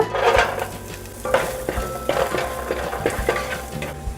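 Ginger, garlic and green chillies sauté and sizzle in a kadai for a mushroom masala, with a steady frying hiss, several light scrapes and stirring knocks of a spoon against the pan, and no voices.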